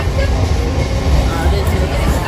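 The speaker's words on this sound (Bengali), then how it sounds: "এখন ট্রেনে উঠে পড়লাম, এই মেচদা স্টেশন ছেড়ে যাচ্ছে।" Train pulling out of Mecheda station, a loud steady low rumble of wheels and carriage with a broad wash of noise and a faint murmur of passengers throughout.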